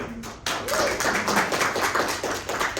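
A small audience claps in a vote for Haley, a continuous burst of dense, even applause that starts abruptly and holds steady at close range, with faint voices underneath.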